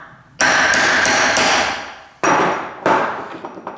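Heavy metallic hammer blows on a cold chisel while working loose parts of an 1865 Forster & Andrews pipe organ, four close, ringing strikes in an uneven rhythm, loud and near with no talking.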